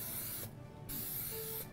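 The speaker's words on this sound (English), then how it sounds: "These cans work better when they're upright. So don't go like this to spray your molds." Aerosol cooking spray hissing from an upright can onto baking molds, a steady close spray with a brief pause partway through.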